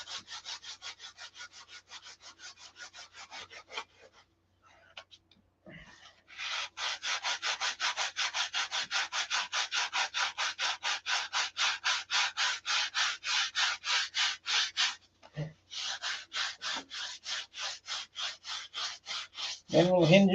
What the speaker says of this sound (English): A couple of minutes, we'll have them sanded.